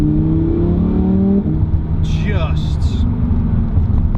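A Lamborghini Huracan EVO V10, with the Performante's engine and titanium exhaust, rumbles and revs loudly under someone talking, with the engine note rising and falling.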